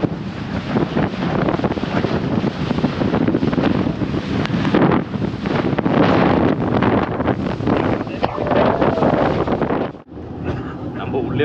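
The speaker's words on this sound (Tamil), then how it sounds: "நல்ல ஸ்பீடாக போகுது போட்டு. சவுண்டும் பயங்கரமாக இருக்குது போட்டில் வந்து." A speedboat races across the sea at sea-walking and scuba-diving spots, its engine roar and rushing wind steady and loud throughout, briefly cut near the end before resuming, with voices faintly mixed in.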